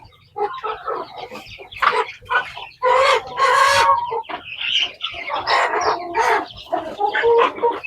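Chickens clucking and squawking nearby on a rice farm, loud irregular bursts of clucks and cackles from several birds, with a possible crow mixed in.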